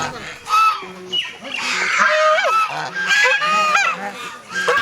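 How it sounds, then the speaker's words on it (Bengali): A flock of domestic geese roams a garden estate in Murshidabad, honking loudly and continuously at close range, with overlapping calls from several birds. "এই যে একপাল রাজহাঁস দেখতে পাচ্ছেন এরা কিন্তু এইভাবেই দলগতভাবে সারা কাঠগোলা বাড়ি ঘুরে বেড়ায়"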